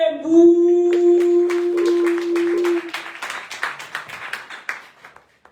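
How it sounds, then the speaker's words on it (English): A single sustained tone fades out, then a burst of scattered hand clapping from a small crowd at a live poetry slam rises and trails off. "A round of applause for Zotani Mtembu."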